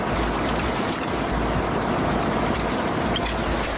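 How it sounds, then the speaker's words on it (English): Steady, loud rushing water washes dirt and rust from scrap metal, pouring continuously without pause, a dense wash of spray and flow with no voices. "Water washes away the final traces of dirt and rust."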